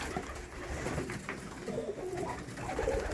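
Soft, low cooing of fancy pigeons at a breeding loft, repeating close by, faint over a quiet outdoor background.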